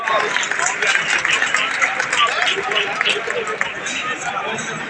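Sustained applause from a large crowd at a Shrimali community gathering welcoming a guest, a loud, thick wash of clapping with crowd chatter mixed in.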